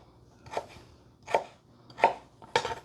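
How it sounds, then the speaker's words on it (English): Knife chopping potatoes into smaller pieces on a board, four distinct sharp cuts spaced under a second apart, close and clear in a quiet kitchen. "All right, so now she's cutting up the potatoes."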